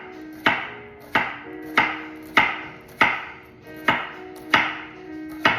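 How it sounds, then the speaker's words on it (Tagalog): A knife chops bitter gourd (ampalaya) into small pieces on a cutting board. Steady, evenly spaced sharp thuds come at about one per second, close and clear with no talk. "tapos hiwain naman po natin siya ng maliliit"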